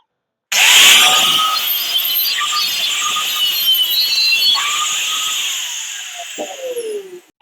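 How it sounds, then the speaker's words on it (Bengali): An angle grinder cuts through a tough, sturdy casing of a water pump motor's automatic switch, a loud continuous high-pitched whine and scraping grind running about seven seconds, pitch dipping as the disc bites, then winding down at the end. "আমি গ্রাইন্ডিং মেশিনটা চালু করলাম"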